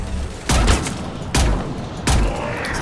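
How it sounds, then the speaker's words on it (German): Background gunfire and bombardment in Mass Effect 3: three heavy booming bursts spaced under a second apart, each with a loud thudding onset and rattling tail, over a steady low rumble of distant war. "So diese Stille und man hört im Hintergrund einfach nur so Bombardierungen."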